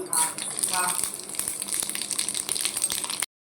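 Seeds hit hot oil with a sudden loud sizzle that settles into a steady crackling fry, close up, then cuts off abruptly.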